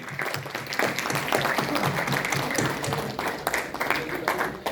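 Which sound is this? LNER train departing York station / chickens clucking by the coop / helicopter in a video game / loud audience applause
loud audience applause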